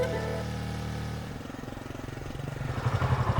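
Vehicle engine with an engine problem, a close, loud sputtering run whose rough, uneven pulses quicken and grow louder toward the end, with no talk over it.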